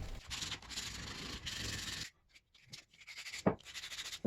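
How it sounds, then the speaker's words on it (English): Light hand sanding rounding over the edges of a wooden kids' three-legged stool, close-up rhythmic rubbing strokes in bursts with brief pauses between passes. "just simply round over the edges with some light hand sanding"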